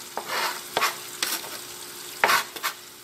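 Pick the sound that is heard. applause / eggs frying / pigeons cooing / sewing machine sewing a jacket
eggs frying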